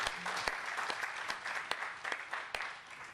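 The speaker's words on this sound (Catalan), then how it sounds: "fem un aplaudiment per tothom, per tota aquesta gent aquí" Audience applause at a Catalan trade-union gathering, a dense steady patter of many hands clapping with a few sharp louder claps standing out, heard close and continuous throughout with no talk.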